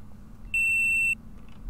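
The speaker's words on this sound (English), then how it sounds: "Loud beeping noise." A single warning alarm beep from Kerbal Space Program sounds as a sharp, steady electronic tone lasting about half a second over quiet background hum, with no speech.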